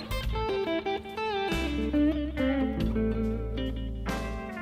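Blues guitar licks and bends played over a looped backing track with steady bass and chords, the lead phrases loud and continuous throughout with no talking.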